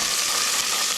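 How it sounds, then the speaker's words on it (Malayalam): Cloves and black peppercorns stirred in a hot pan, a bright continuous sizzle with light scraping, close and loud, no voices. "ഇത്രയും സാധനം നമ്മൾ ഇട്ടിട്ട് ഒന്ന് നന്നായിട്ടൊന്ന് ഇളക്കി കൊടുക്കാം"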